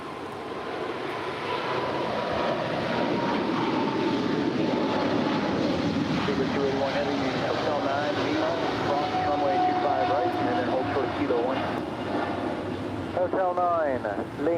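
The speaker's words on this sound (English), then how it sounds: "that is British Airways Speedbird, that 777-300ER coming in from London" A British Airways Boeing 777-300ER arriving at LAX from London gives a long, steady jet roar from a distance, with wind noise and a voice talking over it.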